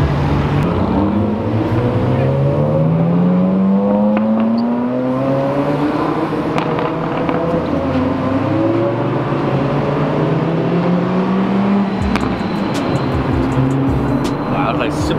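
Supercar engines rev on a downtown Los Angeles street, with a loud, rising and falling exhaust roar that climbs in pitch through several gear changes. Excited people talk over the engines.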